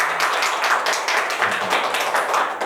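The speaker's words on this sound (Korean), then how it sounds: "우리 박수하면서" Congregation clapping together during a Sunday church service, a dense, steady patter of many hands close by that keeps going throughout with no speech on top.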